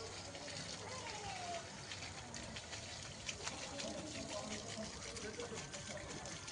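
Water poured from a container onto garden soil on a summer evening, a steady gushing splash that runs on for several seconds with faint background noise and no talk.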